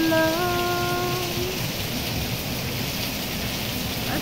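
Heavy nonstop rain in Hong Kong pours steadily in a dense, constant hiss, with a brief tonal sound fading out at the start.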